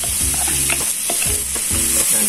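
Onion and garlic sizzle in butter in a pan while a utensil stirs and scrapes in short repeated strokes, close and clear, with no voices.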